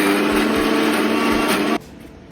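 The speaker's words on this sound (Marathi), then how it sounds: "याच्यामध्ये पाणी घालून आणि याला मस्त बारीक फिरवून घ्यायचं, एकजीव करायचं याला मिक्सरच्या भांड्याने" A kitchen mixer grinder whirring steadily as it blends red chili, turmeric, cumin and garlic with water, a loud, even motor drone that cuts off abruptly near the end, leaving a faint tail.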